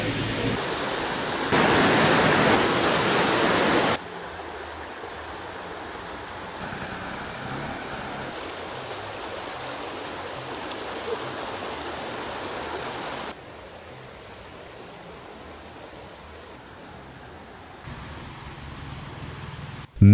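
Floodwaters of the swollen Kelani River rush past in a steady, broad roar, loudest in the opening seconds and settling into a continuous wash of moving water with no voices.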